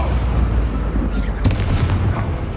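A Confringo fire spell blast in the Hogwarts Legacy video game lands as a loud burst over a dense, rumbling low battle din, with a sharp crack near the middle and booming tail after it.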